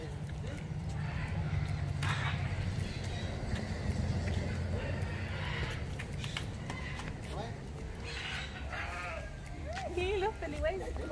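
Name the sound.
sheep bleating, descended from African dwarf sheep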